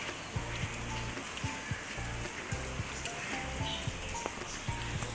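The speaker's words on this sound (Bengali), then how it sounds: "অনেক বৃষ্টি হইতেছে," Heavy rain falling outdoors, a steady hiss of drops with a few soft patters on nearby surfaces, faint and continuous.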